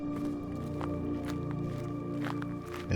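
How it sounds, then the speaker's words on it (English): Footsteps crunching along a gravel trail through a tropical forest, a steady walking rhythm of soft scuffs over a dense, continuous ambient bed. "Underneath your feet, you can hear the gravel"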